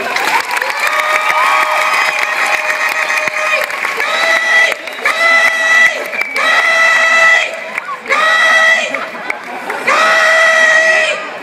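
An audience at a magic show cheers and applauds, with children shrieking and shouting in loud bursts, the crowd noise rising and falling in waves.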